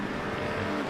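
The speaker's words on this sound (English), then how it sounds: "It's a drag race. Corvette versus Merc." Corvette and Mercedes GT race cars in the iRacing sim at Canadian Tire Motorsport Park, side by side in a drag race, producing a steady, dense engine roar that holds loud and even throughout.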